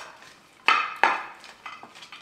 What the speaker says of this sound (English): Going to mix this all up first.